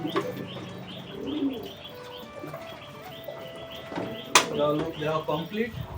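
Pigeons, including a returning male, cooing and chirping with a brief burst of wing flapping near the middle, close by, while someone talks over them.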